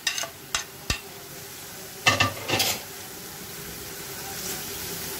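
Spoon stirring red chilli, coriander powder and garam masala into methi thepla dough in a bowl, a few quick scrapes and taps followed by a short burst of mixing, fairly quiet with no talk.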